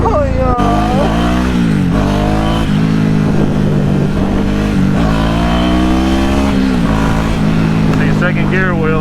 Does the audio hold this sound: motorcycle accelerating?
yes